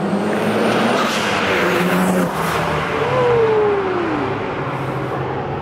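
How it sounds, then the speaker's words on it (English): A Mazda RX-7 FD rotary engine revs hard right beside the exhaust, a loud, close, continuous roar that swells and climbs in pitch near the middle, then settles without dropping away. "duct tape this right next to the exhaust so we get some super crisp audio"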